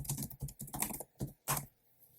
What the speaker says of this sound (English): I'm going to just type a comment here.